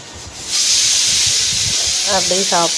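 A loud, sudden sizzle erupts as a hot oil tempering of mustard seeds, urad dal, chillies and asafoetida is poured onto food and keeps hissing steadily, with a voice talking briefly near the end.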